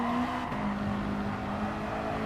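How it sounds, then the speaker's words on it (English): A race car engine holds steady at full throttle in Gran Turismo Sport during an FIA Nations Cup exhibition race, a loud, continuous droning note that stays flat and unbroken, with no voices. "full throttle blast all the way to the finish"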